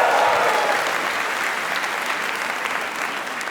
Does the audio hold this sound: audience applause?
yes